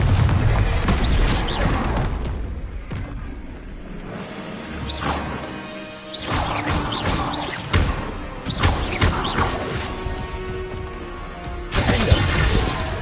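Repeated Confringo spell blasts in a Harry Potter video game, with loud crashing bursts, whooshes and shattering impacts in irregular bursts over a dense battle din.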